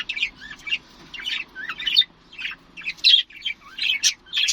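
Pet budgerigars chirp and warble in rapid, busy bursts, close and fairly loud, with no talking over them.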